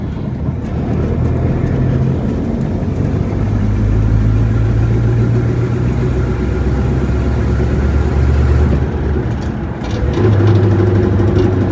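A 1965 Ford Mustang coupe engine lugs down under load, giving a loud, steady low drone with a slight vibration throughout and no talking.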